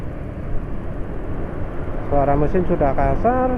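A Yamaha NMAX scooter engine running on Mesran Super SAE 40 diesel oil runs with a rough, steady rumble, and partway through a person starts talking over it.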